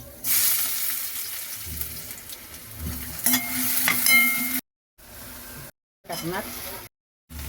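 Curry leaves, garlic and onion fry in a pan with loud, close sizzling and crackling. The stirring comes in bursts broken by short silent cuts, and a voice briefly joins in.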